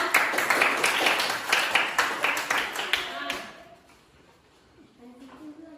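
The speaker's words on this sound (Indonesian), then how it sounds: "tepuk tangan dulu kelompok 3 ya" Students in a classroom applaud group 3 with a lively round of dense handclaps for about three seconds, which then fades into near quiet with a faint voice.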